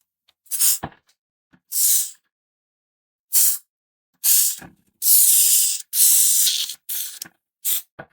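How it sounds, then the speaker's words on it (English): A sprayer lays down a fine line in a run of about eight short, close hissing bursts of varying length, separated by brief silences, with no voices. "It sprays a nice fine line"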